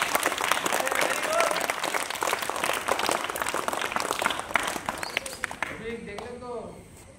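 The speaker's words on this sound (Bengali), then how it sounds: "জোরে হাততালি একবার" Loud, dense applause from a crowd at a live event fills most of the stretch, steady and close, with some voices mixed in before it thins and fades near the end.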